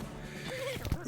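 A cart horse in the video game West of Loathing gives a short, thin whinny with a clip-clop or thud right after, quiet and brief.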